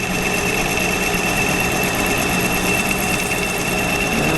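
A lathe tool bit cuts metal at a 1.5 mm depth of cut, producing a loud, continuous, even machining drone with no breaks.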